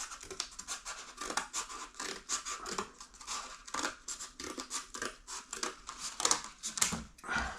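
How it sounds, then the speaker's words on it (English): Scissors snipping strips from corrugated cardboard, a quick run of close, crisp scratching cuts and crinkles with an uneven rhythm. "cut it, strips of it. It's got some of the corrugated cardboard. Cut the strips off."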